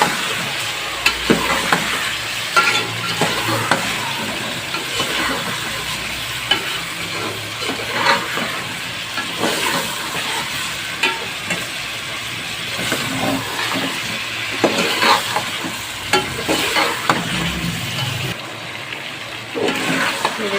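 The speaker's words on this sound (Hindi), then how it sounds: "अब इसमें टमाटर डाल देंगे और अच्छे से मिक्स कर देंगे।" Tomatoes stir-fry in a pan for chicken korma, a continuous close sizzle broken by repeated scraping and clinking of the spoon as the mixture is turned, with no talking.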